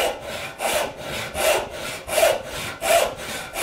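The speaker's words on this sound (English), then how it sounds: "And I'm sawing, keeping the middle." A hand saw cuts through wood in about six long, smooth, even strokes, each rasp close and steady with a regular rhythm and no talking.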